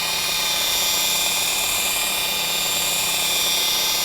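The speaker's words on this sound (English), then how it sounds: "Start polishing using a little bit of pressure and low RPMs." A Mirka polisher works car paint at low RPM with light pressure, giving a steady, unbroken high-pitched whir that holds even and fairly loud throughout with no talking.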